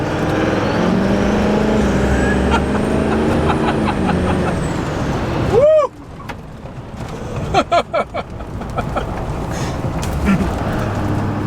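A 2006 LB7 Duramax diesel truck making over 750 wheel horsepower drives with a loud, steady engine drone, then a sharp chirp and a brief dip, followed by a few pulsing bursts as it keeps rolling.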